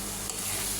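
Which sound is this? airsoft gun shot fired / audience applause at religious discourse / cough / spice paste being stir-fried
spice paste being stir-fried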